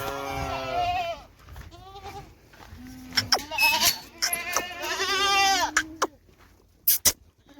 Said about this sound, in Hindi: ये हमारी बकरी और भेड़े हैं।